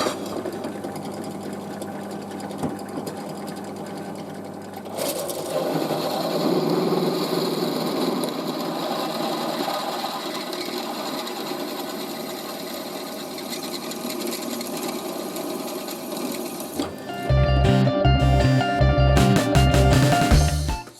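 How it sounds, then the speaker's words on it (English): A pillar drill bores holes in steel leaf spring shackles, its motor whirring steadily at first, then grinding louder through the metal for a long stretch before heavy, rhythmic chugging bursts near the end. "So pillar drill time."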